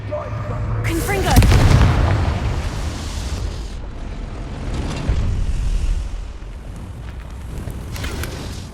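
A Confringo spell blast in Hogwarts Legacy bursts with a heavy, booming explosion followed by a long rumbling decay, then a second, smaller boom and trailing crackle amid game ambience.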